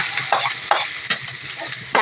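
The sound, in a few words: onion frying in oil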